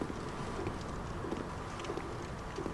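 Bird creatures in the Bloodborne video game give repeated low, cooing calls, faint and spaced out over a constant background hum.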